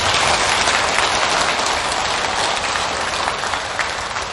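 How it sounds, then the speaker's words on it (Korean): Sustained applause from an audience at a Buddhist dharma service in a temple, a dense, steady wash of clapping that fills the room at high level throughout with no speech, easing slightly at the end. "박수 한번 쳐주십시오"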